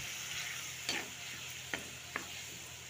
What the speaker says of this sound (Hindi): हम टमाटर का प्यूरी डालने जा रहे हैं। इसको 5 मिनट पका लेंगे।